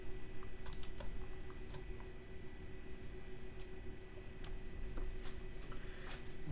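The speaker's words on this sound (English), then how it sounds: "let's just type our passphrase, and we are logging in" Quiet keystrokes on a computer keyboard as a passphrase is entered, a handful of soft, irregular clicks over a constant low hum of room and fan noise.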